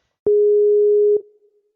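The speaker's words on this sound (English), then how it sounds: "So now I will make a phone call with Shi" A single steady electronic telephone call tone sounds for about a second, loud and clean, then ends with a click and a short fading tail.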